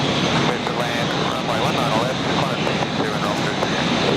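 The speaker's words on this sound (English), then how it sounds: "We'll actually get that after this Qantas A380 arriving from Tokyo first." A Qantas Airbus A380 jet arriving from Tokyo at Brisbane Airport gives a steady, loud broadband roar across the whole stretch, with voices talking over it.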